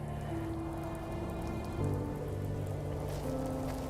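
Rain falls steadily in the video game The First Tree, a soft, even patter of drops hitting surfaces at low volume, with gentle music tones sustained underneath.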